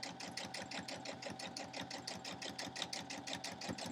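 A sewing machine stitches a straight quilt seam, quilt-as-you-go style, in a steady fast run of needle strokes that carries on without a break at a moderate distance.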